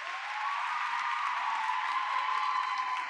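An audience at a youth event in Lahore claps steadily for parents and teachers, a dense and sustained wash of applause with a faint ringing tone through it and no voices on top.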